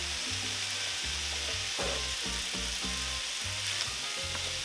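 Onions frying in a pan for tacos, a continuous close sizzle with a rhythmic scraping of stirring running through it, no voices.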